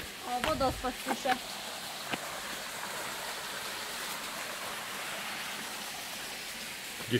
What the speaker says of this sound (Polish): O, wodospad słyszę.